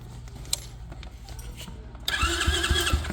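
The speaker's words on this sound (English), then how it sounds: "batteries are hooked up and they crank over" A SyxMoto ATV or dirt bike engine cranks over on its starter, a quieter stretch of low rumble giving way to a louder burst of rhythmic, churning turnover pulses up close.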